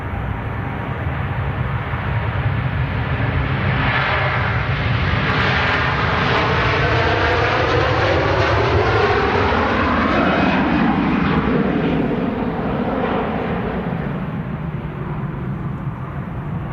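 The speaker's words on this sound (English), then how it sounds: "Here we go, Virgin 330 on the takeoff roll." Virgin Atlantic A330 jet airliner on its takeoff roll at Manchester Airport, a loud sustained roar of jet engines that builds and sweeps past with a shifting whine, steady and continuous throughout.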